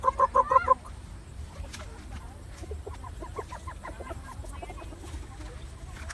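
Rhode Island chickens and other fowl cluck and call in a short burst of repeated notes at the start, then softer scattered clucks continue over steady outdoor background noise.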